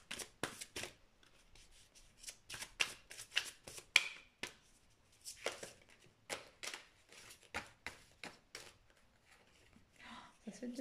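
Tarot cards are shuffled for a card reading, producing quick riffling and slapping bursts in irregular clusters, fairly close and soft, with someone speaking quietly in between.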